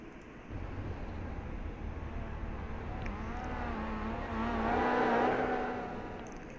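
Race cars on a final qualifying lap at a GTCC race, engine drone rising and passing closer with a tonal whine that swells, then fades slightly, steady and somewhat distant.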